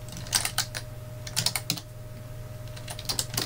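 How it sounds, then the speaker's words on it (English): Close computer keyboard typing in quick irregular bursts of key clicks with short pauses, over a steady low hum and no talking. "if I type this in"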